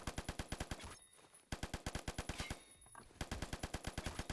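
An M60 light machine gun in Phantom Forces fires in fast, evenly spaced bursts of sharp shots, loud and close, with two short pauses between bursts.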